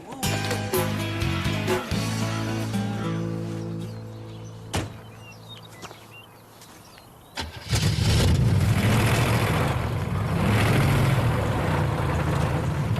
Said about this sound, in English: You gotta fix that muffler.